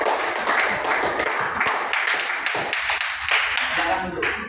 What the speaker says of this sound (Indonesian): Ya baru kita beri tepuk tangan dulu.